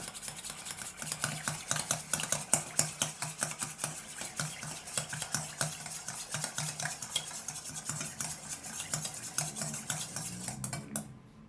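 A homemade deodorant mixture of alum powder and peppermint is stirred briskly in a small container, making a fast, continuous run of rhythmic scraping and clinking strokes close up for several seconds before it stops.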